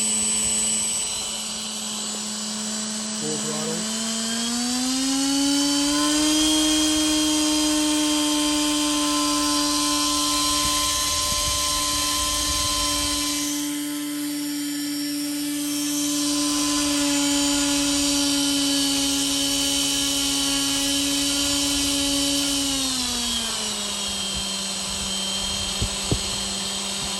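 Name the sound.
1806 1800kv brushless motor running at full throttle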